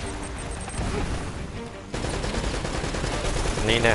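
Gunfire from the action game Uncharted: Drake's Fortune, fortress level, with dense rapid bursts of shots continuing throughout, growing busier toward the end, mixed with game sounds and some talk.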